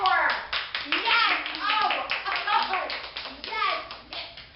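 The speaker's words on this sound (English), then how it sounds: "Come on in, Dr. Antoinette. Clap for her." A group at an after-school program claps for an arriving guest, with quick, close hand claps mixed with lively voices talking over the clapping.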